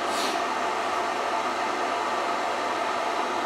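The cooling fan of a Vevor 130 amp MIG/TIG/MMA inverter welder gives a steady, close hiss of airflow, unbroken and fairly loud for several seconds, with no talking.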